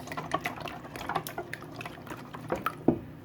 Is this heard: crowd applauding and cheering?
no